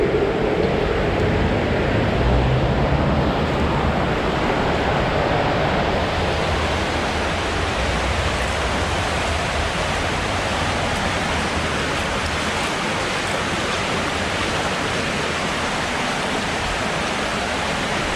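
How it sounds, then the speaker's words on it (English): Loud, steady rushing of running water fills a water treatment plant beneath Sheffield, a broad continuous roar that stays constant throughout with no talking. "we are in a water treatment plant."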